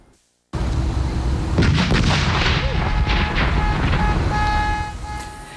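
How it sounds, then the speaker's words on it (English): A staged explosion in Portland sets off a large terror disaster drill: a sudden loud boom breaks the near silence, then a sustained roaring rumble with horn-like tones rings over it and slowly fades. "And with that explosion, America's largest ever terror drill was underway."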